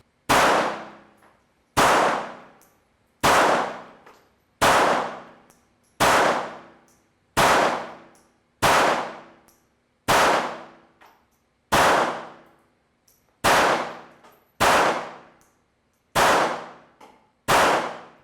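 A Beretta 84 Cheetah .380 pistol firing hollow point rounds outdoors, thirteen loud sharp shots at a steady, unhurried pace, each with a ringing decay, with no talk between them.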